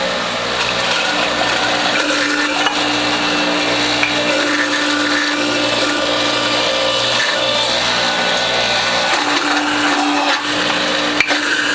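A WHF juicer grinds watermelon with its rind, turmeric and ginger, giving a loud, steady motor whir with a mechanical ratcheting rattle that continues without a break throughout.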